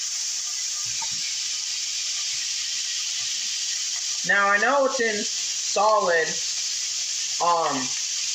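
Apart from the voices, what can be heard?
bacon sizzling in a pan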